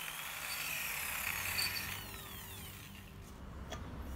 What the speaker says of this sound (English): This 12mm drill is the biggest one I have.